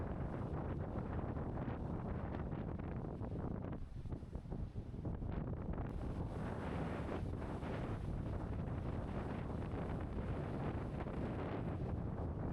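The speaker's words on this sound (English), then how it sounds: "it's a bit too windy and it's a bit too rough today" Strong wind buffets the microphone at Brunswick Heads main beach near the Brunswick River entrance on a rough day, a loud continuous roar that dips briefly partway through.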